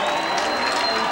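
Large crowd applauding at a college lacrosse game at Alumni Stadium, a steady, dense wash of clapping with a little cheering mixed in, continuous and fairly loud throughout.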